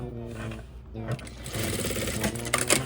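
A sewing machine stitches a panel of a Stone Island coat, its motor whirring in a fast, steady run of stitches up close.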